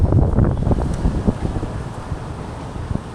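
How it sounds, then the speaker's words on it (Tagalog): Strong wind at the Bulungan fish port buffets the microphone in heavy, low rumbling gusts that are loudest at first and then ease slightly. "Grabe, lakas ang hangin."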